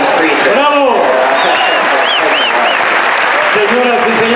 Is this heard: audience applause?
yes